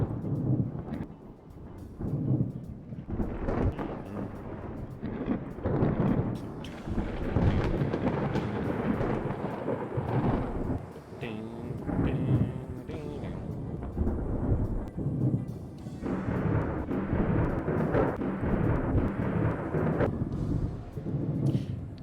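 Time-dilated thunder in the naval video game Ultimate Admiral: Dreadnoughts, heard as a continuous, loud, low rumbling roar with uneven swells lasting the whole stretch, over faint background sound.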